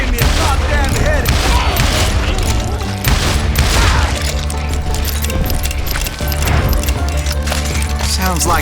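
Hired guns fire away in Call of Juarez: Gunslinger, a loud continuous barrage of overlapping gunshots and booms with some talk mixed in.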